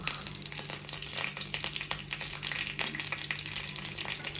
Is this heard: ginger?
yes